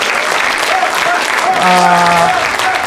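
Loud, dense applause from a concert crowd rises and holds throughout, with a brief tonal voice or cheer cutting through the middle.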